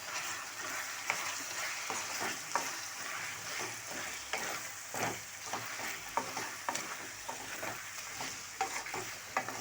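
Chicken frying in a pan with chili powder and curry leaves, with steady sizzling and repeated scraping stirs throughout and no talk.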